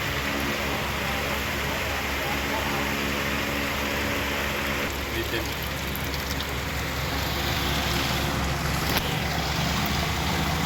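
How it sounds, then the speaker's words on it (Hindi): A 12-volt DC water pump for an air cooler runs at strong pressure, giving a constant rushing, spraying water noise with a steady motor hum underneath throughout. "ये देखें, ये ज़बरदस्त प्रेशर के साथ है ये पंप।"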